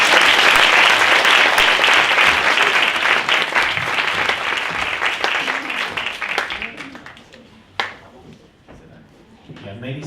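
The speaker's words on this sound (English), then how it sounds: "give them a warm round of applause and just step on up" A LinkedIn conference audience in Johannesburg applauds panelists: loud, dense clapping that gradually thins into scattered claps, with a sharp knock and faint voices near the end.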